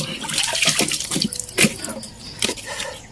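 Water splashes and pours close by in irregular bursts as someone washes sparingly, scooping from a basin because water is scarce.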